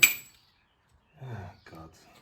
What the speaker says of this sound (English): So, what's the big bolt that dropped?